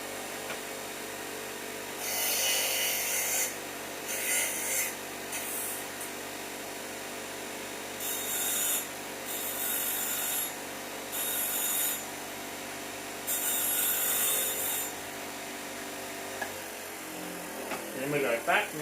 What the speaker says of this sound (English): I'm going to hit it with the bench grinder very lightly to put a taper on it